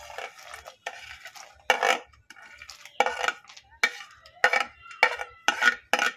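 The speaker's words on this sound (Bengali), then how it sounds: "দুধে বলক এসে গেছে, এবারে আমি ড্রাই ফ্রুটগুলো সব দিয়ে দেব।" Dry fruits go into a pot of boiling milk for sheer khurma, with about a dozen sharp metallic clanks and scrapes of a spoon against the pot in an uneven rhythm, close and clear.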